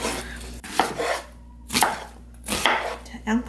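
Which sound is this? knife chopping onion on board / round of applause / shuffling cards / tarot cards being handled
knife chopping onion on board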